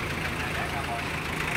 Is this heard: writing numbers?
no